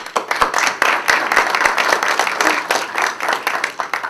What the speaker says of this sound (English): So please give a round of applause for Director Johnson.